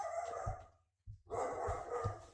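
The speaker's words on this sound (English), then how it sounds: "Sorry, guys, my dog is barking." A dog barks repeatedly indoors, a run of sharp, fairly loud barks with a brief pause in the middle before another burst of barking.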